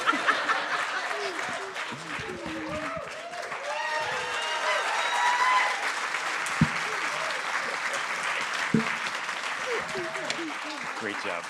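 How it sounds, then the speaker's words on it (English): Audience at a university three-minute thesis competition applauding the group, sustained clapping with some chuckles and scattered voices, a few sharper claps standing out near the end. "And once again, an applause for the group."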